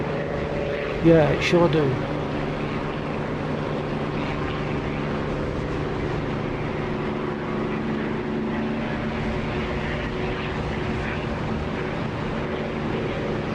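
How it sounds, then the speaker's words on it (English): A steady aircraft engine drone from the DCS flight simulator fills the whole stretch, holding an even level beneath a brief exchange of voices near the start. "What's the aircraft that's going across the runway?"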